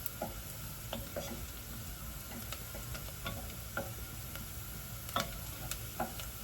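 Half a cup of chopped onion fries in olive oil over lowered heat, giving a steady, quiet sizzle sprinkled with scattered crackles and small clicks, with no voices.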